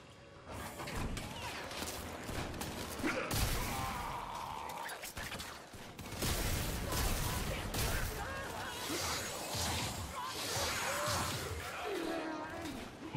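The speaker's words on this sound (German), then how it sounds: "Wer schießt denn da von hinten?" Gunfire and combat effects in the video game Warframe: bursts of shots, crashes and whooshing impacts come in dense waves, loud and layered, while someone talks over the action.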